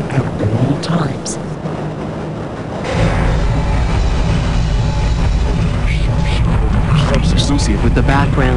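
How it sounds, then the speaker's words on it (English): A tram train rolling through the Black Mesa facility in Half-Life: Opposing Force: steady loud mechanical rumble and hum that swells after a few seconds, with screechy metallic tones, under a recorded announcer voice. "This train is inbound. From Sector C."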